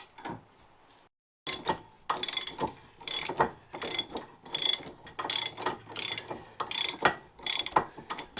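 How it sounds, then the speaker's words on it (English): A heavy ratchet wrench clicks rapidly and rhythmically up close, working on a budget truck build, following a second of near silence and continuing in repeated quick bursts of sharp pawl clicks. "this is a heavy ratchet to hold upside down"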